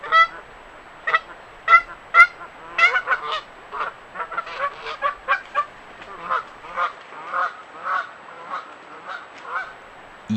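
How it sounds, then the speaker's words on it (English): A goose, probably a mother goose, honks repeatedly during a confrontation, a run of loud, harsh calls arriving in bursts and irregular pulses throughout, with no voices present. "It's probably the mama goose"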